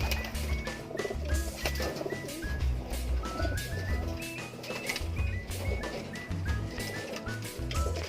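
Breeder pigeons cooing in a loft, many overlapping low throaty coos in a steady rhythm, close and clear, with faint wing flutters and rustling.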